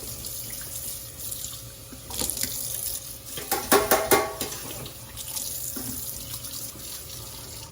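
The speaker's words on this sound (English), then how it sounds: "while I rinse out this sink" Tap water runs steadily into a kitchen sink during rinsing, a continuous hiss with splashy bursts building in the middle before settling back to a steady stream, no voices.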